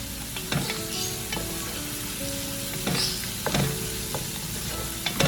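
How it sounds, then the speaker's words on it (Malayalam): Onions sizzle steadily in hot oil with coriander and mint leaves for a vegetable biryani, a continuous close frying hiss broken by a few soft stirring clinks. "ഉള്ളിയൊക്കെ വാടി വരുന്ന കൂട്ടത്തിൽ തന്നെ ഞാൻ കുറച്ച് മല്ലിയില അതിലേക്ക് ഇട്ട് കൊടുത്തിട്ടുണ്ട്"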